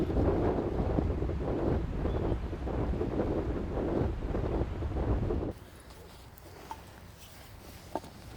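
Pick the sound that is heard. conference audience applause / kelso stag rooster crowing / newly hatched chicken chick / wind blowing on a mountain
wind blowing on a mountain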